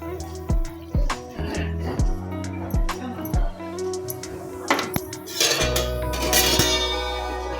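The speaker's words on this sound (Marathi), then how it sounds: "ह्याला थोडा वेळ आपल्याला हलवतच राहावं लागणार आहे, कारण जेणेकरून त्याच्या गाठी नाही झाल्या पाहिजेत" Khimti porridge with cooked vegetables is stirred in a kadhai: a ladle knocks and scrapes against the metal pan in a loose rhythm of clanks, close and fairly loud, ending in a sustained low rumble.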